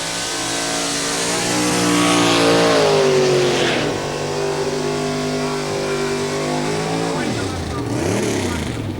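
A 1934 Ford Model B Roadster drag racing at Santa Pod, its engine revving loud and close, pitch climbing and sweeping as it passes, while a commentator talks over the run.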